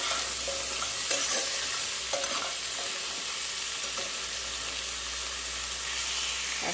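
Food frying in a pan while salt and turmeric are stirred in: a steady, loud sizzle with occasional scraping strokes of the stirring utensil, no voices.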